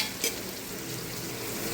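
Vegetables frying in hot oil for chicken biryani, a steady close sizzle with a brief stir or scrape near the start, no voices.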